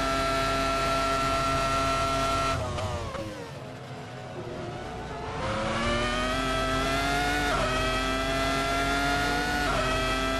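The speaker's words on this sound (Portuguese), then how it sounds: "Jordan utilizava o motor Honda aqui também, já era motor oficial da Honda" Jordan Formula 1 car with a Honda engine at Monza in the Assetto Corsa racing game, a loud, sustained high-revving scream that dips briefly on a downshift and climbs again, no talking.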